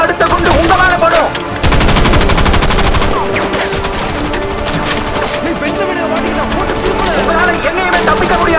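Sustained automatic gunfire from a film action scene, a dense continuous rattle of rapid shots that stays loud and close throughout, with music or effects layered underneath.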